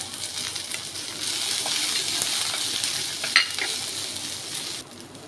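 Onion softening in hot oil with coriander leaves and curry leaves in a pan, a steady close sizzle that swells and is stirred with occasional scraping, then thins out near the end.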